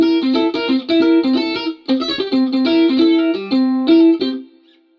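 A sampled mandolin with a gritty, overdriven tone from reverb, EQ, compressor and amp and cab simulation plays a quick rhythmic phrase of repeated notes and chords, loud and upfront, then rings out.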